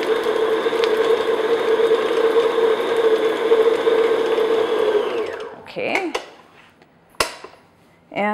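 An electric hand mixer beats lemon cookie batter in a bowl at low-to-medium speed, a steady whirring motor drone that runs for about five seconds, then winds down and stops, leaving a few clinks and bowl scrapes.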